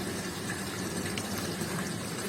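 Hotpoint Ariston dishwasher, one that had been failing to start its program, filling with water and beginning to wash: a steady watery rushing and churning hum, continuous and fairly quiet, with no talking.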